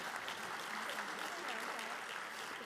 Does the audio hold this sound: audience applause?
yes